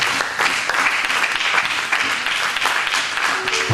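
A church congregation applauding at a service, with dense, loud, steady clapping that fills the whole moment without pause.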